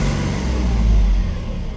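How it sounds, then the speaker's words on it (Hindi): The engine of an Ashok Leyland Saathi truck runs close by, a loud, steady low rumble with a slight swell in the middle and no speech over it. "इंजन की आवाज़ सुनाता हूँ"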